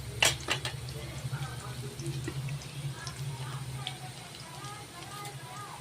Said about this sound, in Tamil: சின்ன வெங்காயம் கட் பண்ணி அதை நல்லா வதக்கணும் சவக்கிற வரைக்கும்.